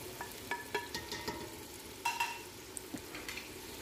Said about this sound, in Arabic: غادي نديرو البصله نخليوها تشحر شويه